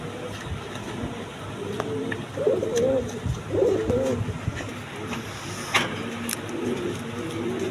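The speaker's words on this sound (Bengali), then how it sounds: "এখানে এক পেয়ার কোকা কবুতর আছে" A running breeding pair of Basiraj Koka pigeons coos in deep, throaty rolls, two clear bursts standing out near the middle, while a car engine hums and passes in the background.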